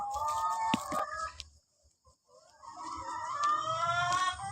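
Chickens cluck and squawk nearby in short bursts, with a brief lull in the middle before the clucking picks up again.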